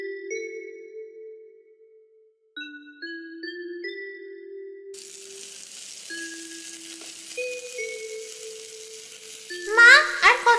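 Khichuri of rice and mung dal cooks in a pot in an animated kitchen, a steady hiss of simmering and sizzling that follows a short melodic tune and swells louder near the end.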